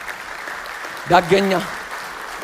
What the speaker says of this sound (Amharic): ለዚህ ጌታ ጭብጨባ ይሰጠው